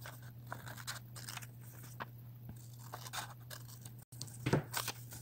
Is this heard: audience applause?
no